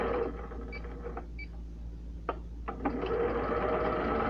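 A sewing machine stitches a straight seam with a steady, close mechanical whir, briefly easing off midway before running on again, with no talk over it.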